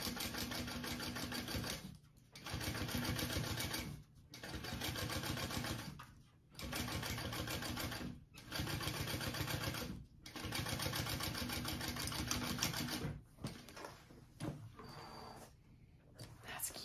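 A sewing machine top stitches a seam on a fabric bag panel, running in steady bursts of about two seconds each with short pauses between them, close and loud, followed by some quieter handling noises near the end.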